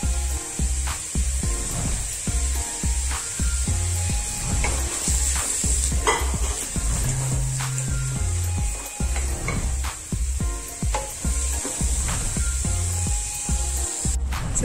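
Onions and curry leaves sautéing in a pan for a savoury vermicelli breakfast, with a constant close sizzle under frequent spoon scrapes and clinks against the pan, steady and fairly loud throughout.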